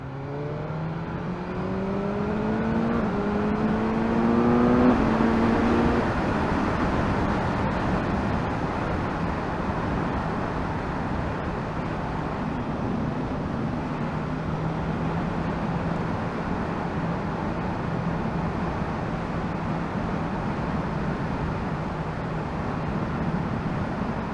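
A BMW S1000R Sport motorcycle ridden on a road, its engine revving up through rising gear pulls in the first few seconds, then settling into a steady high cruising drone with heavy wind rush.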